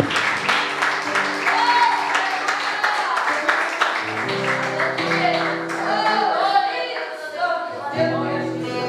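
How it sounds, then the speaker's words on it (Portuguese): Applause and clapping from a crowd at a church service fills the space continuously, mixed with voices speaking and calling out over it. "Aplauda o Senhor em nome de Jesus aí, meu filho."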